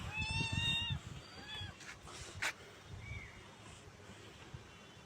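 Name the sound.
cat meowing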